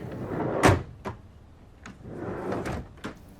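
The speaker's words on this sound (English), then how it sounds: "Open up the door there, Johnny." A carriage door opens in a Sherlock Holmes radio drama set at a haunted chateau, heard as a sharp wooden clunk and latch click followed by a few softer knocks and shuffles, close by with no talk.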